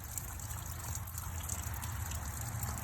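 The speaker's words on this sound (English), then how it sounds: "It's just steadily raining constantly" Steady rain with water running and gushing as it fills a front field, a continuous dense wash of trickling and splashing, fairly close and unchanging throughout, with no voices.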